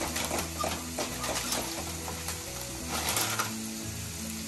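Maida flour stirred into melted butter in a pan for white sauce pasta, sizzling steadily with soft rhythmic scraping and stirring, close and continuous throughout.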